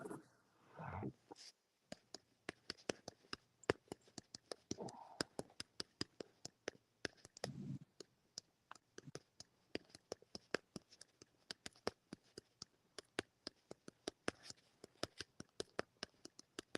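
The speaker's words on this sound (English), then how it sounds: "sound like you're typing over there" Rapid, irregular clicking of keys on a keyboard, steady and fairly close, with a few brief muffled bumps and no talking over it.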